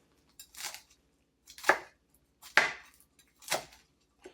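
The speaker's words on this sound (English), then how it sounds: "I'll chop it fine." Five crisp knife chops strike a cutting board as a handful of spinach is cut fine, evenly spaced and close, with nothing else heard between them.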